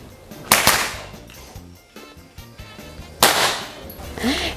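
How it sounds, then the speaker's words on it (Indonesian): Air rifle shots fired at targets in a shooting competition: two sharp cracks a few seconds apart, loud and close, with faint background noise between. "penembak akan langsung memulai menembakkan target yang ada di depan"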